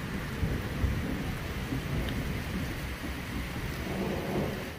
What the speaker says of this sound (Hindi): बहुत ही तेज़ बारिश शुरू हो गई है